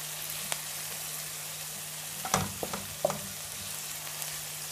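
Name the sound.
garlic and ginger frying in a pan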